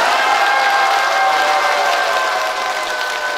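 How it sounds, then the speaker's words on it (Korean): Loud, dense applause with cheering from a crowd in a district office auditorium during a laughter-movement lecture, a steady roar of clapping throughout. "함성과 더불어서 큰 박수를 보내주시기 바랍니다"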